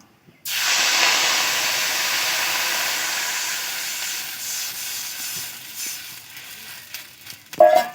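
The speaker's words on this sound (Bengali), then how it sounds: "চারটে শুকনো লঙ্কা দিয়ে দেব আর দিয়ে দেব গোটা জিরে খুব ভালো করে ফোড়ন করে নেব দিয়ে দেব জল" Water poured into hot oil tempered with four dry red chillies and whole cumin for a fish curry bursts into a sudden loud hiss. The hiss fades slowly over several seconds, and a few clinks follow at the end.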